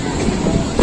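A Pakistan Railways rail car runs along the track on a loop line, giving a steady rumbling roll with a louder surge near the end, heard briefly and close from on board.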